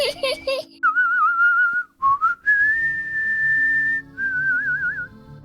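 A person whistles a slow, wavering tune up close in long sustained notes with short breaks between phrases, and a voice is briefly heard at the start.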